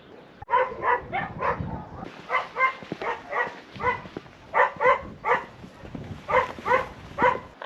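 Dogs barking in a village in Spain, with repeated bursts of barks in quick clusters separated by short pauses, fairly close and loud, with no talk.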